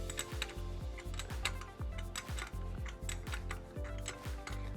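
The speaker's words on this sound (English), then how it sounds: "We're gonna use the 10mm side of your wrench. Start unscrewing it." A wrench ratchets steadily while unscrewing a nut on the rear fender of a Juiced RipRacer e-bike, giving close, loud repeated clicks in quick bursts with no talking.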